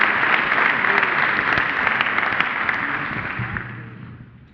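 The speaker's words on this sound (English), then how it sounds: "One more round of applause." An audience applauds at the 2013 Ocean Exchange industry excellence award ceremony: dense, sustained clapping from a crowd that holds steady, then gradually tapers off toward the end.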